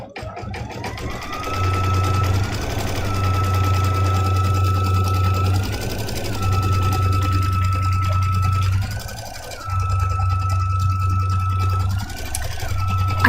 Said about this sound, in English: It's gonna stitch that first. And then it's gonna go straight into doing the satin stitch around the edge of the ornament.